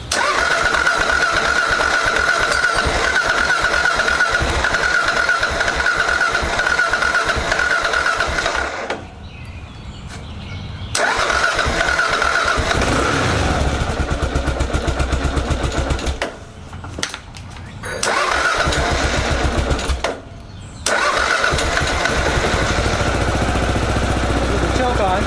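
A cold Kawasaki KLR 650 motorcycle engine, fitted with a KLX needle kit, is cranked and starts, running loudly with a few brief drops where it falters, a voice speaking over parts of it.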